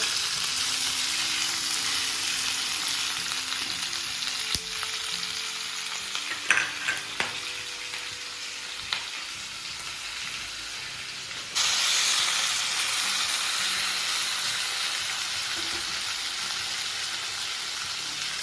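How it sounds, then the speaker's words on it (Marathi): Dal and tomato cooking in a pan over a medium gas flame give a continuous sizzle and steamy hiss, broken by a few scraping stirs and clinks midway and growing slightly louder toward the end. "आता आपण 5 ते 10 मिनिट अगदी मीडियम गॅसवरून भाजून घ्यायचं।"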